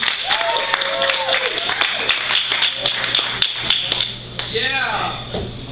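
A comedy club audience applauds a stand-up comic, crisp individual claps and a smattering of hands mixed with voices and whoops from the crowd, lively and fairly close.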